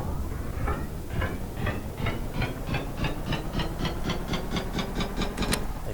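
A modular engine in the game Stormworks cranks over and starts, its rhythmic chugging pulses speeding up steadily with a hissing, mechanical edge, close and continuous.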